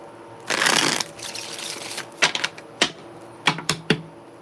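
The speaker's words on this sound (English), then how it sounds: "One more shuffle." A deck of tarot cards is shuffled. A loud riffling burst comes first, then a run of sharp, crisp card snaps and taps, close and with no talking.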